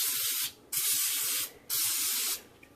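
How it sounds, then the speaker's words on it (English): Bursts of cooking spray hiss from a can as vegan nuggets are lightly coated on top, two long sprays of nearly a second each, close and loud, with no voices. "get your cooking spray and you're just going to lightly coat them"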